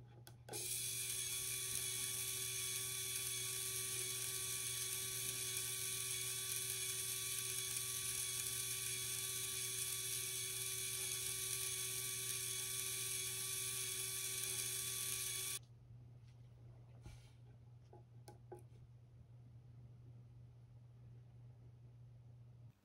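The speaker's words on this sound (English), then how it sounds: "Now we change gear wheels on the motor and drive shaft and try again to measure turns at low gear." A Lego motor drives a gearbox at low gear, giving a steady electric whine and mechanical hum with a constant pitch. The whine stops suddenly after about fifteen seconds, leaving a quieter background hum with a few faint clicks.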